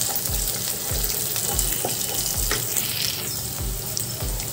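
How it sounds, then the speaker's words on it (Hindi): Minced meat (keema) fries in a pan while browning, with a continuous close sizzle and crackle and regular soft scraping strokes of stirring, no voices. "थोड़ा सा ब्राउन होने तक फ्राई करें।"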